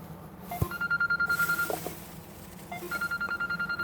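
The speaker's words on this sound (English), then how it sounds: "That's the wife's phone going off." A wife's mobile phone rings indoors with a warbling electronic trill in rapid repeated pulses, coming in two bursts separated by a short pause, moderately loud and alone.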